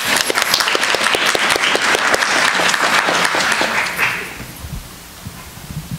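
Audience applause welcoming a panel speaker at a university event, sustained dense clapping for about four seconds, then fading into scattered claps and room noise.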